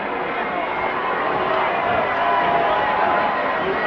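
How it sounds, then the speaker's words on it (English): Dense, steady roar of a wrestling arena crowd chanting USA, loud and continuous throughout with no clear breaks. "The crowd chanting, USA, USA"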